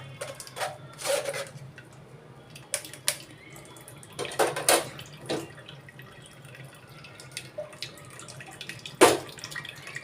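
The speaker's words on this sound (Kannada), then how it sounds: "ಇದರ ಚರಟಕ್ಕೆ ಮತ್ತೆ ಒಂದು ಲೋಟದಷ್ಟು ನೀರನ್ನು ಹಾಕ್ಕೊಂಡು ಅದನ್ನು ಕೂಡ ಕ್ಲೀನಾಗಿ ಇದಕ್ಕೆ ಸೇರಿಸ್ಕೊಂಡ್ಬಿಡೋಣ" Water poured from a glass onto ground cucumber residue while preparing a spicy cucumber snack, heard as faint, scattered splashes and light clinks against a quiet background.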